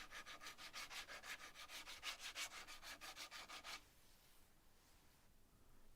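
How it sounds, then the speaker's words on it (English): Scrap wood for a clothes drying rack is hand sanded with steady back-and-forth strokes, about a dozen quick rhythmic rasps close by, then the strokes stop and a quiet hiss remains. "And finished off with a hand sanding."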